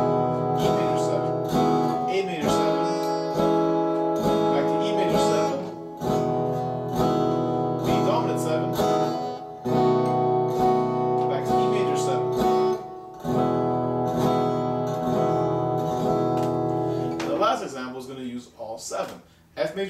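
Open-string major 7th chords strummed on guitar in a steady progression, each chord ringing out full and sustained before the next change, close and loud with no talking.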